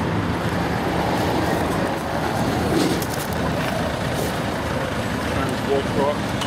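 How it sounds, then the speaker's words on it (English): Trucks and cars pass along a busy main road toward Brisbane, a constant roar of traffic heard from the roadside with occasional louder swells as vehicles go by, while people talk nearby. "more trucks, more cars."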